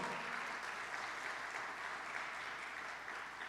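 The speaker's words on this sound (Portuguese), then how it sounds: "Quem está subindo bem alto, dá um glória a Deus, aumenta o seu aplauso aí ao Senhor." A church congregation applauds in sustained, dense clapping with no break, heard fairly faint and at a distance.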